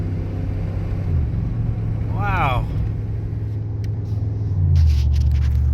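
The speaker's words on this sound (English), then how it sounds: "Man, I can't believe how good this little truck runs with diesel gas in it" An old Dodge pickup running on diesel fuel idles with a loud, steady low rumble and rises into a rev near the end, while someone speaks briefly over the engine.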